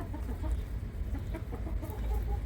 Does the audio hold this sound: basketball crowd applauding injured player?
no